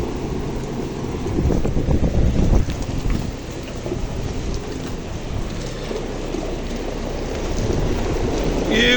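Sudden rain falling at night in Iraq: a dense, steady outdoor hiss with a rough low rumble, holding at an even level throughout, with no voices.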